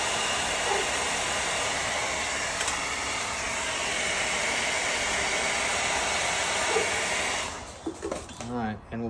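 A hair dryer blows steadily on fresh paint, a loud continuous broadband whoosh that runs for most of the stretch before cutting off near the end, followed by brief quieter rustles.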